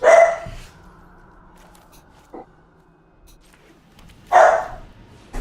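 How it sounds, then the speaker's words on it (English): A dog barks indoors, two sharp loud barks separated by a pause of about four seconds, with a faint thump between and quiet room tone otherwise. "The other one's barking."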